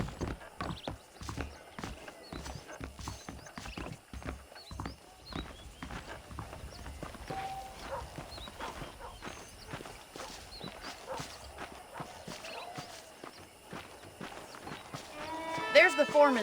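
Horse hoofbeats clip-clop at a steady walking rhythm while riding in the Western video game Red Dead Redemption, with a voice talking over the hooves and a brief louder burst near the end.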